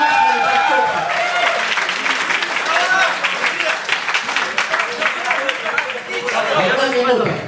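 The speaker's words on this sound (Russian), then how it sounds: "Пожалуйста, поддержите его аплодисментами." An audience at a wrestling match bursts into sustained applause, a dense wash of clapping that swells and dips with crowd chatter mixed in.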